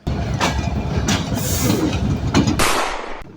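The Jahanabad Express, a Khulna–Dhaka train, runs loudly along the tracks leaving Narail, a steady heavy rumble with rhythmic clickety-clack bursts from the wheels, heard close up.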